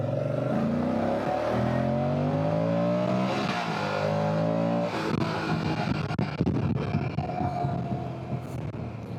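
A 2025 Moto Guzzi Stelvio motorcycle engine, rated at 115 horsepower, revs hard and climbs steadily in pitch across several gears before settling into a rough, loud rumble with wind noise.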